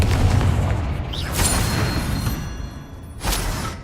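Booming spell blasts from the video game Hogwarts Legacy, a couple of loud explosive bursts over a dense, rumbling game soundscape.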